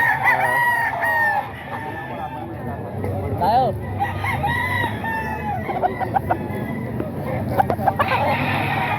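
Roosters crow repeatedly at a busy market selling young fighting cocks, including a white kelso, with clucking fowl and loud babble of people talking and bargaining throughout.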